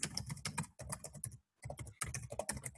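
Steady typing on a computer keyboard while entering a password for a .lv domain setup, with quick, dense clusters of key clicks, one brief pause in the middle, close and unaccompanied by talk.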